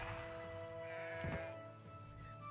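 Sheep bleating in the Renowned Explorers strategy game: one short, faint wavering bleat over a steady low drone of game music and ambience.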